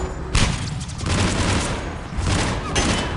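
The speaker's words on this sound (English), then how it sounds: "I'm gonna shoot those toes." Sustained, dense gunfire in the video game Mass Effect, a continuous loud roar of shots with sharper bursts at the start and near the end, running unbroken for a few seconds.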